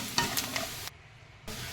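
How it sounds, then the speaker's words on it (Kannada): Rice and cumin frying in a pan, a soft sizzle broken by a few scraping stirs, quiet and close, dropping out briefly before the frying resumes. "ಮೊದಲಿಗೆ ಊಟದ ಅಕ್ಕಿಯನ್ನು ಫ್ರೈ ಮಾಡ್ತಾ ಇದ್ದೇನೆ"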